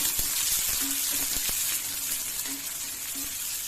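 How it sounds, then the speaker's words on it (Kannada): Curry leaves and onion, added after cumin, frying in a pan for masala fried idli: a constant soft sizzling hiss with scattered small pops and crackles, fairly quiet and without speech. "ಕರಿಬೇವಿನ ಸೊಪ್ಪು, ಈರುಳ್ಳಿ ಹಾಕೊಂಡ್ಬಿಡ್ತೀನಿ. ಫ್ರೈ ಮಾಡ್ತೀವಿ."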